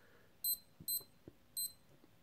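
A George sport watch alarm beeps close by: three short bursts of high, thin electronic beeping in an uneven rhythm, each followed by faint clicks, with quiet background between.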